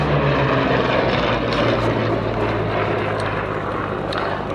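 Vintage propeller warplane maintained by the Aircraft Restoration Company at Duxford drones steadily at an air show, a loud, continuous engine roar that slowly fades slightly over a few seconds.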